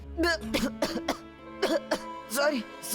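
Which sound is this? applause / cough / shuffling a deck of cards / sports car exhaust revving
cough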